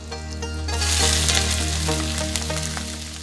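Onion goes into hot oil and fries with a loud, close, crackling sizzle that swells and then holds steady, with faint clatters from stirring.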